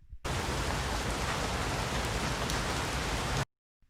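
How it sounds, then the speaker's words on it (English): Steady rain pours down in a dense, even hiss, loud and close, starting suddenly and cutting off abruptly after about three seconds. "standing in the rain"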